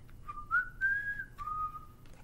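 A person whistles a short tune nearby, a clear pure tone that slides upward, holds, then drops to a lower steady note, alone over a quiet background.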